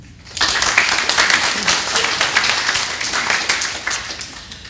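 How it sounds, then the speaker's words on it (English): An audience at a health talk on sleep starts applauding after a short quiet moment, then holds a dense, even roar of clapping until the end. "So again, a round of applause for these gentlemen."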